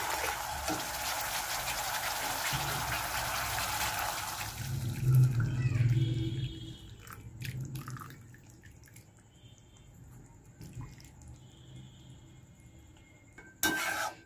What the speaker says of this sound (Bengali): এবার আমি পাশে একটুখানি গরম জল করে রেখেছি, ওই জলটা একটু অল্প করে দিয়ে দেবো।